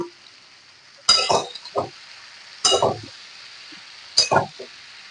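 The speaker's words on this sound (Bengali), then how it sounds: "এবার আমি পরিমাণ মতো হলুদ দিয়ে দেব আর একটুখানি শুকনো লঙ্কা বাটা দিয়ে দেব আর দেব পরিমাণ মতো লবণ এবার দিয়ে খুব ভালো করে কষিয়ে নেব" Turmeric, dried chili paste and salt sauté in a pan for a puti fish curry, heard as three separate bursts of close stirring and scraping with faint sizzle and metal clinks, quiet between them.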